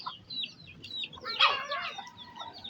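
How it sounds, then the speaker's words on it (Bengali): Young chicken chicks peep and cluck close by in a steady stream of high, thin chirps that swell briefly midway, with no talking. "মুরগির বাচ্চা ধরবা?"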